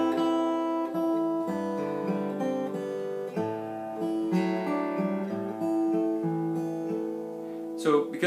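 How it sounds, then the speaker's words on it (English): Solo fingerstyle acoustic guitar playing the vamp section of "Scarborough Fair", plucked notes and ringing chords in a steady flowing rhythm, close and clear with no voice over it. "So because it's a solo guitar arrangement"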